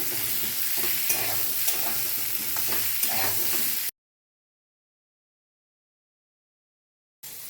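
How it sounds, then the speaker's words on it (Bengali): Cauliflower and potato pieces fry in hot oil, giving a close, steady sizzle with scraping stirs and light clicks, then cutting to silence before briefly returning. "একই সঙ্গে ফুলকপি আর আলু ভেজে নিচ্ছি"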